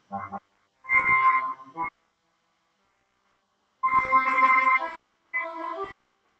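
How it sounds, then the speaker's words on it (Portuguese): Trombone notes sound in four separate blasts, two short and two longer, with quiet pauses between them. "Este é o som do trombone."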